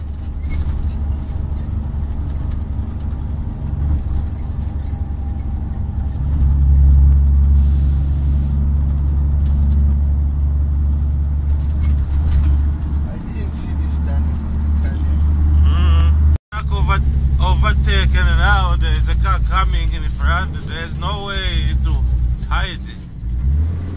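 A 1998 International 9800i truck rumbles with a low, heavy engine drone and a burst of revving on a road heading toward the Zimbabwe and Zambia borders, with air-brake hiss and a sharp mechanical pop, while people talk over it.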